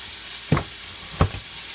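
Knife chopping through a carrot on a cutting board while preparing rustic chicken cacciatore: two sharp, distinct cuts about 0.7 seconds apart, close and fairly quiet over a faint background hiss.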